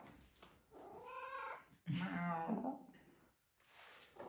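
A cat meows a few times at close range, drawn-out whining calls with short pauses, fairly quiet, during an Easter outing at the Błędowska Desert.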